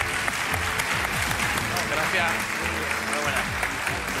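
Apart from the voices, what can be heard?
studio audience applause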